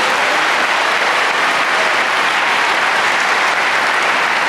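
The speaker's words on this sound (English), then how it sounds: "Please give these students a round of applause." Audience at a high school graduation commencement ceremony applauding scholarship recipients, a dense, loud, continuous wash of clapping from a large crowd that holds steady throughout.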